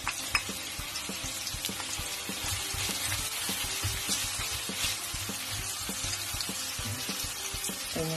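Garlic and ginger frying in a pan, a close, steady sizzle with intermittent stirring taps and faint background kitchen noise, no speech over it.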